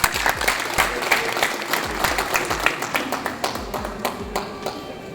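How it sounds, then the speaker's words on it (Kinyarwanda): An audience applauds with fairly sparse, distinct claps. The individual hand strikes land in an uneven rhythm over a light crowd murmur, and the clapping tapers slightly toward the end. "mukomere amashyi cyane."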